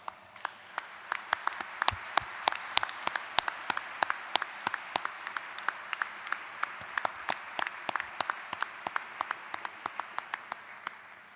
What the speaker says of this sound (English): if you would stand and receive a round of applause